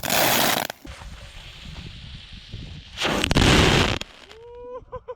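Firecrackers exploding outdoors during a loudness test, two loud bursts with a broad crackling roar, each lasting about a second, then a sharp pop and a brief whistling trail at the end.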